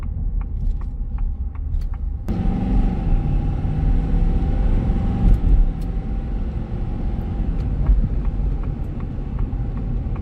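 Inside a 2024 Ford F-350 Lariat dual-rear-wheel diesel pickup on a test drive, a steady low engine and road rumble runs throughout, growing fuller a couple of seconds in, with faint clicks and no talking.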